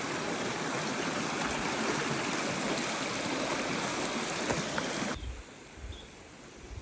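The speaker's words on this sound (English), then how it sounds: "we're stopped at Duke's Creek on the Raven Cliff Falls trails" Duke's Creek flows steadily along the Raven Cliff Falls trail, a dense, loud rush of stream water that fills the scene and then drops away abruptly near the end, leaving only faint background.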